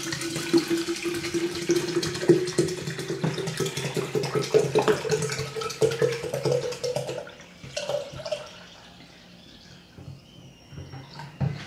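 Water runs steadily from a tap into a container while preparing calcium acetate from eggshells, a continuous splashing rush that rises in pitch as it fills, then cuts off and fades to a quiet trickle.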